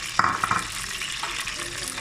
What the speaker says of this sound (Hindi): हमें ना इसको जस्ट सौटे करना है, फ्राई नहीं करना